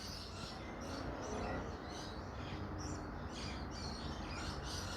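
Birds chirp and tweet in a small spring backyard garden, a scatter of short high calls repeating across the clip over a steady outdoor hiss.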